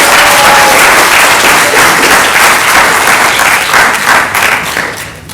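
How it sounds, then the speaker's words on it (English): Loud, dense applause from an audience at an interfaith dialogue talk, greeting a speaker; sustained clapping that tapers slightly toward the end. "Please give a round of applause to Mr. Peter."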